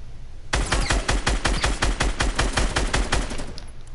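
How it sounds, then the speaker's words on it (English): Rapid automatic gunfire in a video game starts abruptly after a short quiet moment and continues as a loud, steady burst of evenly spaced shots for about three seconds, with no talking. "I'm gonna shoot them."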